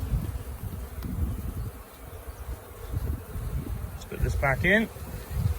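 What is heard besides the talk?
honey bees buzzing around hive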